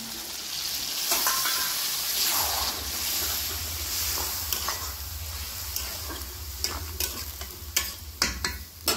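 Water with ground spice paste hits mixed vegetables in a hot pan, raising a loud steady sizzle that gradually settles, with sharp utensil clicks and knocks growing more frequent toward the end.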